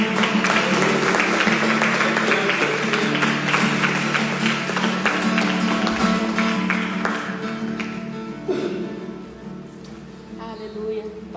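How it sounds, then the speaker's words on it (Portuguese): Applause during a church service, a congregation clapping loudly over sustained music and voices, with the sound thinning and fading toward the end. "Você pode aplaudir ao Senhor?"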